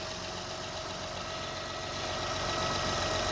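A 2007 Acura MDX engine idles with a steady, even hum and faint rhythmic ticking, fairly quiet and unchanging, with no voices.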